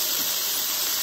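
A brief, dense hiss of bacon burgers sizzling on a hot Blackstone E-Series griddle, steady and close.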